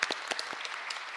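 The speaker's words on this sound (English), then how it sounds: "Give her a round of applause." Audience at a meeting giving a short burst of applause, scattered claps fading quickly over about a second, moderately distant and fairly quiet.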